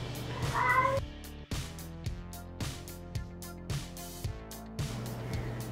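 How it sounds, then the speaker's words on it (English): Several cats meow loudly and repeatedly at close range, with drawn-out, insistent cries in an indoor setting and no talking over them. "Sorry about the cats."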